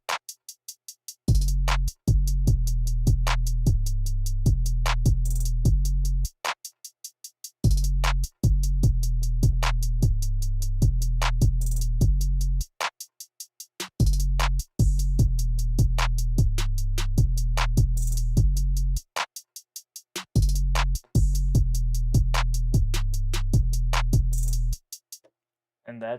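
Layered drum beat for a type beat, with punchy low kicks and sharp percussive hits playing together in a steady repeating pattern, broken by short silent gaps, loud and up front with no talking.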